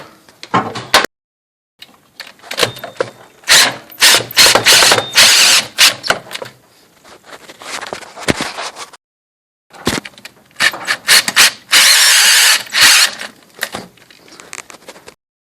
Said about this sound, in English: I'm tightening it down now.